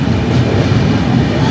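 Howrah to Puri Dhauli Express passenger train running on rails near Bhubaneswar New station, a loud close steady rumble and rattle of wheels heard from on board.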